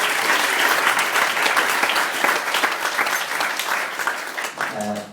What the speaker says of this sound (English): So, big round of applause for Richie.